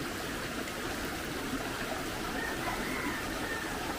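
Water in a stream flowing past a small farm after a typhoon, a steady, fairly soft rushing and burbling that continues without pause, with no speech.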